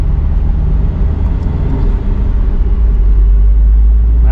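A tuned Subaru STI, its Stage 2 build with an upgraded intake and Cobb map, runs loud and close on a dynamometer, a deep continuous engine rumble that climbs as it revs toward the end of the pull.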